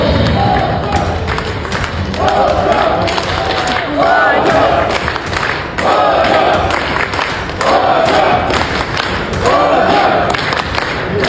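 A stadium crowd at a Kyrgyzstan football match roars and chants in rhythmic waves for a Ghanaian footballer, with loud surges about every two seconds and shouting voices mixed in.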